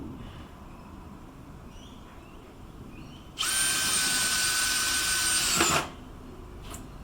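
A cordless drill drives a screw in a beginner's DIY job. It gives one steady, whining burst of about two and a half seconds over a quiet room, then stops abruptly.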